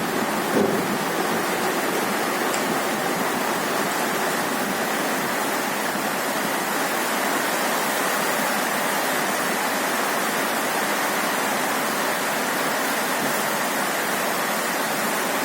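Steady, dense rush of heavy rain falling continuously, loud and close with no breaks, like a downpour on surfaces outdoors.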